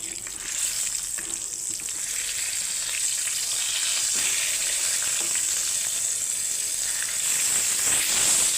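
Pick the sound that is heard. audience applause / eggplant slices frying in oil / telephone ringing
eggplant slices frying in oil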